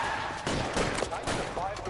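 Gunfire in the video game L.A. Noire, dense bursts of shots crackling steadily at moderate loudness, mixed with game dialogue and voices throughout.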